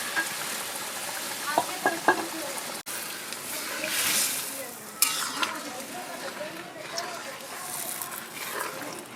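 Mixed winter vegetables sauté in a pan for Bengali mixed vegetable dal, giving a steady soft sizzle with occasional stirring scrapes, under talk.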